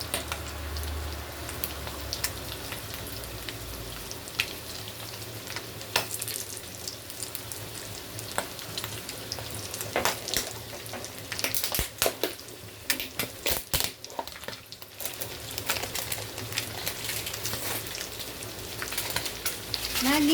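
Seasoned pork frying in a pan for pancit bihon guisado, a continuous loud sizzle with crackling splatter pops and occasional clatter of stirring, a brief voice near the end.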